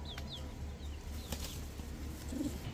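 A red bar Birmingham Roller pigeon flaps its wings in faint, quick whooshing bursts, mixed with a few soft chirps from nearby birds, all quiet against a low background hum.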